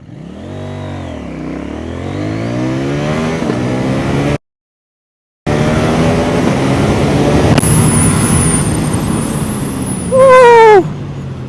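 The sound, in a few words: 800NK motorcycle accelerating during a 0-100 run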